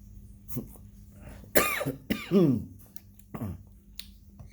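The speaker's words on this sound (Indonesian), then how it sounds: "batuk" Several coughs in a row, close and fairly loud, with a throaty rasp and short pauses between bursts, brought on by ginger coffee.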